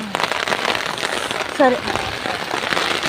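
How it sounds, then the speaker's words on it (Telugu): Heavy rain pours onto a tin roof sheet in a village, a dense, steady drumming hiss that continues throughout while a voice speaks briefly. "జోరు వర్షం"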